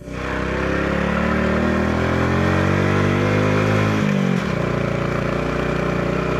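A motorcycle engine labors uphill in low gear on a steep mountain road to Mt. Pulag, a loud, steady drone held close throughout, its pitch sagging briefly near the end before settling again.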